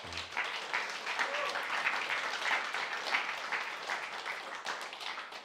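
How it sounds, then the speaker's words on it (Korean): A church congregation applauds children and their teachers, a steady dense wash of many hands clapping together that holds for several seconds at even strength. "다시 한번 박수 쳐줍시다"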